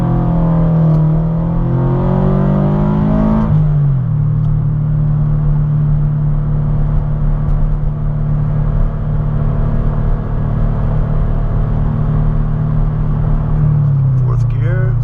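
Tuned Subaru BRZ fitted with a JDL header pulling from first into second gear on wet ground, a loud close engine drone rising, dropping briefly at the shift, then climbing again steadily.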